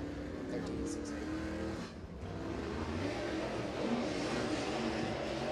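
A crate race car circulating a speedway during qualifying at Crossville, its engine roar steady and fairly distant, with a brief dip before it swells again.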